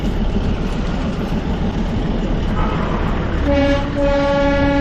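A small Darjeeling Himalayan toy train rumbles steadily along the tracks at night, then its horn sounds loudly in two sustained blasts near the end.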